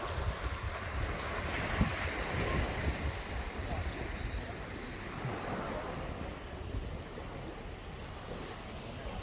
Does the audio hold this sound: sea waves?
yes